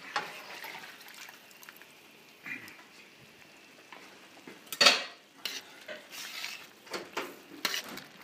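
Metal utensils clink and scrape against a pan while beef stroganoff sauce is moved into it, with scattered sharp clatters and one loud knock near the middle over a soft background hiss.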